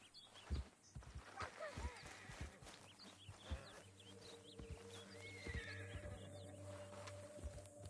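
A horse in Red Dead Redemption 2 whinnies with rising and falling neighs over snorts and clopping hooves, set against a steady low drone and faint background game sounds.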